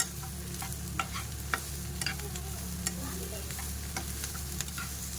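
Garlic and onions frying in a pan in a home kitchen, a steady close sizzle with occasional stirring clicks and taps.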